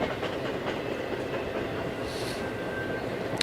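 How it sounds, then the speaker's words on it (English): An early-morning train rolls past near a high school track meet, a steady rumble with rhythmic clickety-clack of wheels and a thin high squeal near the end. "First train of the morning coming by."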